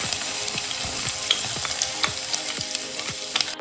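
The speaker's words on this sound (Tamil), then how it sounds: "இப்போ இந்த தட்டி வச்ச பூண்டை சேர்த்துக்கலாம்." Crushed garlic frying with popping mustard seeds in hot sesame oil for tomato thokku, a steady loud sizzle with repeated crackling pops and spoon stirring throughout, no voices.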